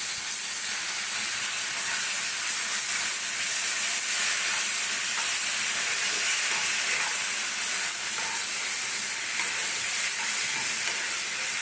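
Ginger, onion and garlic masala paste frying in hot oil, a steady, dense sizzle and hiss that runs unbroken throughout without talk.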